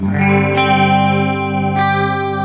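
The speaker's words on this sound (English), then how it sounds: "that chorus is a bit too wide" A sustained distorted electric guitar chord through a practice amp rings out with a wide, shimmering chorus effect, with a couple of brief pick scrapes.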